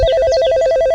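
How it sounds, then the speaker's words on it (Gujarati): A telephone ringing loud and close, a rapid repeating electronic trill pulsing evenly through the whole moment with no one speaking. "એટલે લે આમ લીધું ફોન આવી ગયો."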